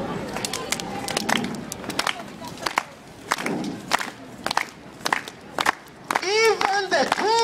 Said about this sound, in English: give me a slow and steady hand clap